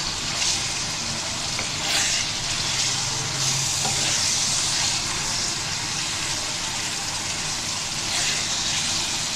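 Chicken for a green chicken dish sizzles steadily as it is lightly fried in a pan, a close continuous crackle with occasional stirring scrapes.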